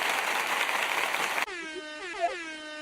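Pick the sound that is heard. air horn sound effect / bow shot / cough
air horn sound effect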